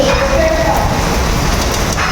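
Heavy rain pours steadily around a child getting soaked outdoors, a loud dense hiss with no break for the whole stretch.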